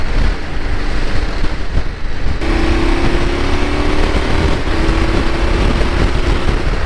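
A KTM 1290 motorcycle engine drones steadily under heavy wind rush, its steady tone settling in after a couple of seconds and holding loud and close throughout.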